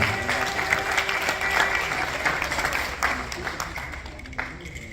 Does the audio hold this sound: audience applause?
yes